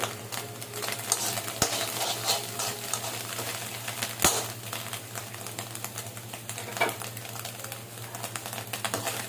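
Egg fried rice stir-fried in a pan with ginger garlic paste, a steady close sizzle broken by irregular scraping and tapping of a ladle against the pan, with a couple of sharper knocks and no voices.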